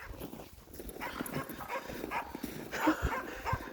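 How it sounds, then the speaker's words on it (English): A small dog in a park gives short yips and whimpering barks at close range, irregular and moderately loud, with low voices and outdoor background underneath. "Look at the little doggy."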